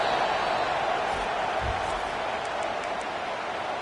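Steady roar of a stadium crowd cheering behind the defense on a third down at an LSU college football playoff game, a continuous wash of noise throughout with faint talk beneath.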